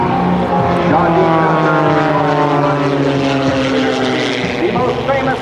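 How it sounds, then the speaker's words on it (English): The propeller engine of the Oracle Challenger aerobatic biplane roars steadily and loudly at an air show, a sustained droning tone with shifting pitch, while a commentator talks over it. "The most famous aerobatic biplane in the world today. It is the Oracle Challenger."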